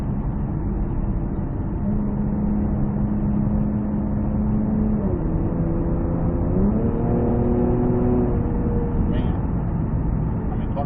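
A 2019 Infiniti Q60 Red Sport 400 AWD engine hums steadily from inside the cabin while driving, its tone stepping up and down with gear changes, with faint talk underneath.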